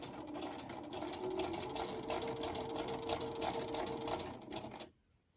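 A domestic sewing machine runs steadily at its longest stitch length, sewing big basting stitches along a seam: a continuous close whirring motor hum with rapid needle clatter for about five seconds, then it stops abruptly.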